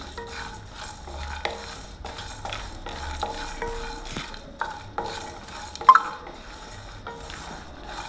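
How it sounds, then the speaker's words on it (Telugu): Whole spices (cinnamon, shahi jeera, cloves and cardamom) fry in a pan for a masala brinjal curry, with steady soft sizzling under repeated scraping stirs and occasional clinks of the spoon against the pan. "మసాలాలు దాల్చిన చెక్క సాజీరా లవంగాలు యాలకులు మసాలా వేసుకోవాలి వేసుకొని వేపుకోవాలి"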